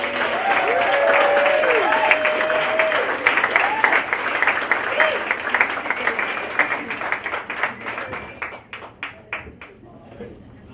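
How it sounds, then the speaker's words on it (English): A crowd applauds John on stage with loud, dense clapping and a few whoops, then breaks into scattered individual claps that fade out. "Everybody give John a big round of applause."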